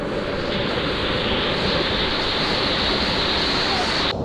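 A waterfall pours in a rocky stream in a continuous close, loud broadband rush of water, with wind buffeting the microphone.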